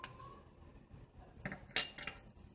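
A spoon clinks and scrapes against a bowl while stirring chaat masala and crushed chillies into fried eggplant, with a few sharp metallic taps amid quiet scraping, close by.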